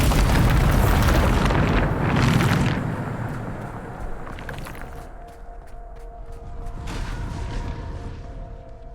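A Bombarda spell detonates in Hogwarts Legacy, a loud booming blast with a rumbling roar that swells and then fades into scattered debris clatter and ringing tones, with no voices over it.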